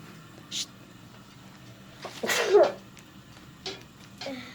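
A single sharp sneeze bursts out near the middle, with a few quieter breathy sounds before and after it.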